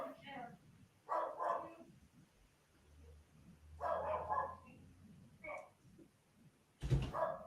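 A dog barks in short, distant bursts, faint and intermittent, with a few yips between quiet gaps and a louder thump near the end.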